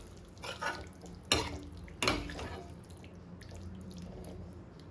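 Potato curry being stirred in a pot after water is added, with a couple of sharp scraping clanks of the spoon against the metal over a soft wet bubbling and sizzle.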